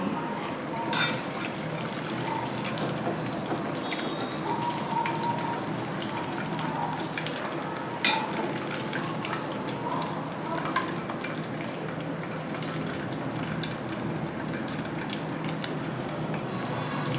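Pieces of leftover idli deep-fry in hot oil with a steady, dense crackling sizzle that holds throughout, occasionally punctuated by a faint clink, with no voices.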